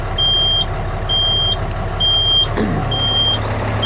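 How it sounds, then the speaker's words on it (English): A dump truck's low air pressure warning beeps four times, steady and high-pitched at an even rhythm, over the truck's low idling engine. "while we listen to that annoying beep"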